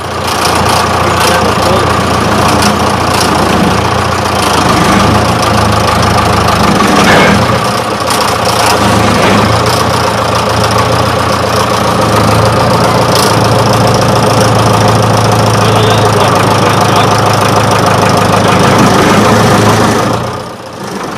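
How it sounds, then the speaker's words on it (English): Traction engine tractor hauling a heavy road roller up a ramp, its engine chugging steadily and loudly at close range for the whole stretch, with a heavy low throb and mechanical knocking. "What you can see is the tractor being pulled back towards the roller due to the large weight of the roller itself."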